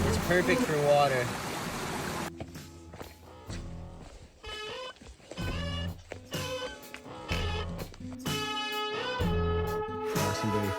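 A stream on the Long Trail rushes and burbles for about two seconds before music takes over and buries it.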